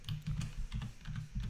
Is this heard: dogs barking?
no